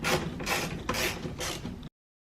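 A ratchet undoing the bolts holding a door speaker in a 2005-2011 Cadillac STS, giving four quick bursts of close, loud clicking that stop abruptly, with no talk.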